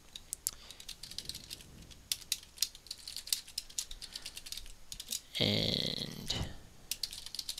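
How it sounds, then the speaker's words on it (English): Rapid computer keyboard typing of code, a steady run of close, crisp key clicks with a louder burst of keystrokes near the end, with a brief spoken word early on. "in here I'm just going to really quickly type out the basic stuff"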